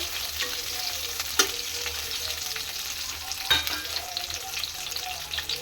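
Masala-stuffed capsicums frying in oil, a North Karnataka dish, with a steady close sizzle broken by a couple of sharp spoon clinks and stirring scrapes, no speech.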